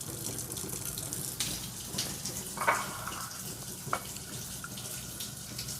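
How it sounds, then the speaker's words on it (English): Hot water runs from a kitchen tap into a cup in a steady, close rush with a few small clinks, no voices over it. "I'm getting me 1/4 of a cup of just hot tap water"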